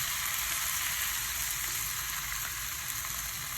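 Crab meat stir-fried with glass noodles sizzles loudly and steadily in a hot pan, a dense, continuous frying hiss with no talking.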